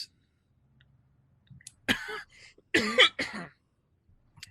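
A couple of short, sharp coughs and a throat clear, close and loud, separated by silence.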